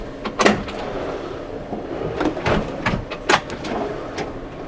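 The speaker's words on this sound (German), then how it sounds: "Alle Schubladen mit Selbsteinzug." Soft-close kitchen drawers shut in the fitted kitchen of a 2021 Sprinter 4x4 camper van, a few close muffled thumps and short sliding rumbles spaced through the stretch, with no voices.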